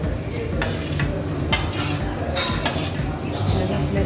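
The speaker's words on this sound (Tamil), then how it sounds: "இப்போ நம்ம இந்த ஃப்ரை பண்ணி வச்சுருக்கிற இந்த கிழங்கெல்லாம் இதில் போட்டுருவோம்." Fried elephant yam pieces tipped into a hot pan and stirred, with steady sizzling, repeated scraping and clinking of a metal spoon against the pan, all close and continuous.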